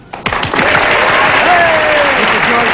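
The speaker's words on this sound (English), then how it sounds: "cue the clap now" A studio audience bursts into clapping on cue, starting sharply and holding as a loud, steady wash of applause, with a voice speaking briefly over it.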